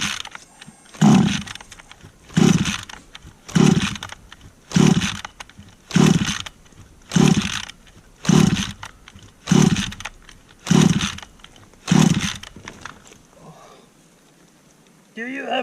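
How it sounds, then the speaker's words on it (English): A 32cc engine with no choke is pull-started over and over, giving about ten evenly spaced, loud rasping yanks on the recoil starter before the pulling stops and the clip falls quiet. "No choke, so you gotta just keep pulling till she starts."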